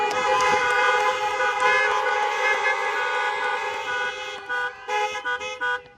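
Many car horns honk together at a 2020 high school graduation in a long sustained blare, then break into shorter scattered toots toward the end.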